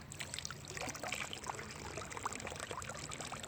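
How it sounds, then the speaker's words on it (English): Water pouring and trickling through a rifle's barrel and action while it is flushed after firing corrosive ammunition, a steady close splashing dribble throughout with no talk. "Make sure water runs through the barrel area and everything else."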